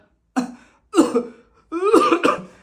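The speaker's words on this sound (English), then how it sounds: "I'm having a bad cough, flu, high fever, pain in my chest." Three close, harsh coughs in quick succession, the last one longer and raspier, with silence between them.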